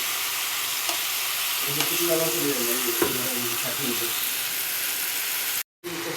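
Chopped tomato frying in a pan while being stirred, with a continuous sizzle and scraping, clinking spatula strokes through the middle stretch, a sharp knock near the three-second mark and a brief cutout near the end.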